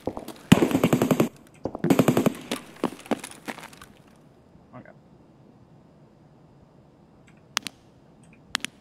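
An AK rifle fires in Escape From Tarkov in two loud, close full-auto bursts followed by a few scattered single shots, then quieter distant pops and clicks, with people talking over it.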